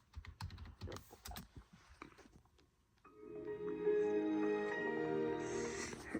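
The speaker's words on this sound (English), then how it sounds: "Now I can type it in." Quick clicks from a computer keyboard in the first half, irregular and close, then the typing gives way to music with a sustained tonal sound.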